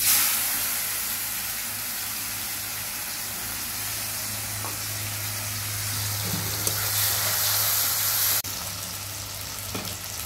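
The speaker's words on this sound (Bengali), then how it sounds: "এবার আমার কুচনো পেঁয়াজটা আমি হলুদ মাখিয়ে রেখেছিলাম, একটু নরম হয়েছে, ওটাই আমি দিয়ে দেব" Chopped onion coated in turmeric hits hot oil and sizzles loudly and steadily, a continuous bright frying hiss with a few small pops and no one talking.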